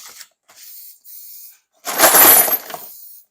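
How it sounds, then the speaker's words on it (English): Several short hissy bursts, then one longer forceful spray blast of Ballistol lubricant from an aerosol can, close and loud, with brief pauses between. "I'm going to spray them with a little Ballistol."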